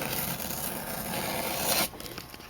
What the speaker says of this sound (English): So I'm going to be using an X-Acto knife.